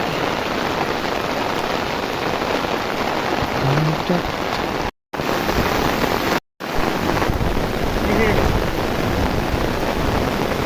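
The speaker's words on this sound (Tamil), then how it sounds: "நல்ல மழை" Heavy rain in Sivaganga, Tamil Nadu, pours steadily in a dense, loud hiss, broken by two brief dropouts, with faint voices now and then beneath the downpour.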